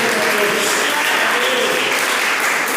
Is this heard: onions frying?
no